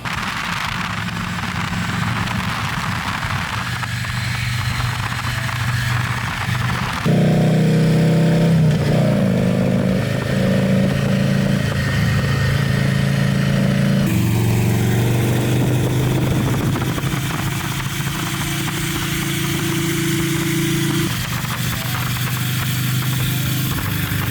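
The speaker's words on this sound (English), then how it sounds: "The bagger, I've honestly never ridden a bagger before, so that was my first time riding a bagger." Harley-Davidson bagger motorcycle engine while riding, a loud continuous rumbling drone that shifts in pitch and tone as the ride goes on, with no talking.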